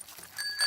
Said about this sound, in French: Et ici la sonnette.